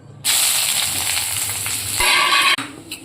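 Onion hits a hot pan with cumin, bursting into a loud, sudden sizzling hiss that holds steady, then cuts off abruptly and gives way to quieter scattered crackles, close up with no talk.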